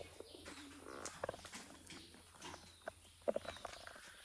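Pigeons kept at a rundown village house give soft, scattered coos and calls, faint and intermittent over a quiet background.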